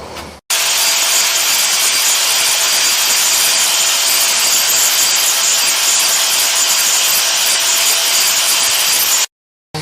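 Grinding the galvanized coating off a round steel pipe along the weld seam before welding. A loud, steady abrasive roar runs almost the whole clip without a break, with no talking.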